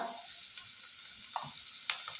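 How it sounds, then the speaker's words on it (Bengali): Ginger paste frying in a pan, a faint steady sizzle with a few soft stirring scrapes and clicks. "আদা রসুন বাটাটা দিয়ে একটু নাড়িয়ে নেবো ভাজা ভাজা করে নেবো"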